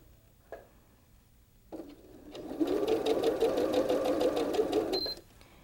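A sewing machine stitches quilt block fabric in a steady, rapid mechanical whir lasting a few seconds, preceded by light handling clicks and fabric rustle, close and alone without talk.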